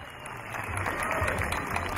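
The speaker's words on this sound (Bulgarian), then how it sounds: "Аплодисменти!" Village crowd applauding a guest's arrival at an outdoor gathering in Dalbok Izvor, Bulgaria, a dense, even wash of clapping that swells slightly and holds steady.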